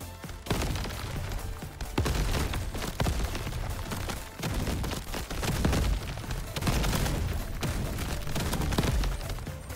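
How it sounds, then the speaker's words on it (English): Explosions from turrets in the video game Crab Champions pound almost without pause, with loud booming blasts and rapid crackling bursts stacked into a dense, continuous barrage with no voices. "those explosions are hurting"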